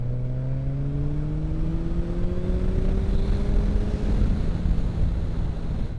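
A 2023 Suzuki Hayabusa sport bike engine droning steadily while riding, its pitch slowly rising and easing off, heard close under heavy wind rush with no talking.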